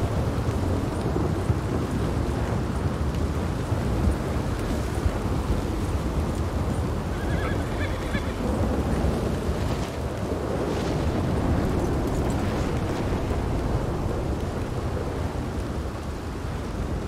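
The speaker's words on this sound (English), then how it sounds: "oh my gosh, this storm right now, it's creeping me out." A thunderstorm pours down, with steady dense rain and rumbling low thunder. Wind buffets the microphone as a continuous loud wash, with no voices.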